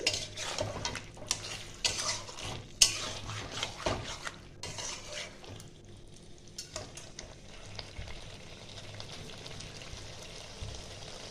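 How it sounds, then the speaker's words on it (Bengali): Chicken masala is slowly fried over a medium flame, a steady soft sizzle with a spoon scraping and stirring against the pan in irregular strokes, occasional clinks of metal. "আমি 5 মিনিট ধরে এটা কষছি।"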